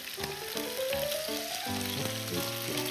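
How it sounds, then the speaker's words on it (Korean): Lean, low-marbled steak laid into a hot pan for a chimichurri steak dish, giving a steady broadband sizzle that runs for the whole stretch beneath tonal background music. "그 다음에 고기를 얹어보도록 하겠습니다."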